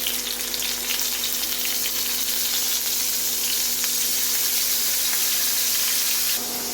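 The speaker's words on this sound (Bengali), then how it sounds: "প্যান বসিয়ে আমি তেল দিয়ে দিলাম এবার আমি মাছটা ভেজে নিচ্ছি" Rui fish frying in hot oil in a pan, a dense, even sizzle with faint crackles and a low steady hum beneath, cutting off abruptly at the end.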